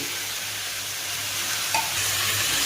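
Ivy gourd fry with dried red chillies and coriander powder is stirred in a frying pan, giving a steady, close sizzle of frying and spatula movement that runs without a break and with no voices.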